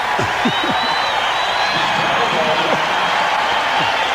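Basketball arena crowd during a 1997 NBA regular-season game between the Portland Trail Blazers and Chicago Bulls, a steady broad roar with some cheering and a few ball bounces, running continuously under commentator talk.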